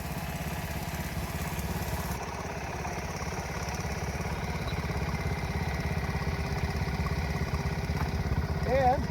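A restored Honda CT70 H model with a 4-speed gearbox being ridden, heard as a steady small single-cylinder engine drone, close and continuous, with a faint voice at the very end.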